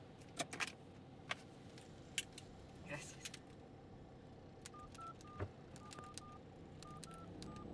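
A borrowed mobile phone gives short electronic dialing beeps, faint and spaced irregularly against a low background hum with a few clicks.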